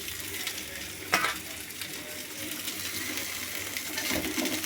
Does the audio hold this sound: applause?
no